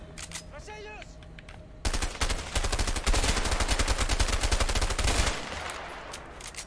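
Gunfire in the co-op prison-escape video game A Way Out, with a dense, loud burst of rapid automatic shots lasting a few seconds after a quieter stretch of game tones, then stopping.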